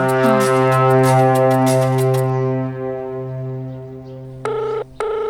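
A phone call ringing in a Kannada film scene: a long, loud electronic tone holds steady for several seconds, followed by two short ring bursts near the end, with no talk over it.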